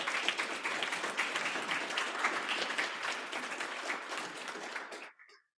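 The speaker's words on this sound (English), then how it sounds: "Let's give him a round of applause." A room full of people applauds at the Lovejoy ISD school board meeting, sustained, even clapping from many hands that carries on for several seconds before cutting off abruptly.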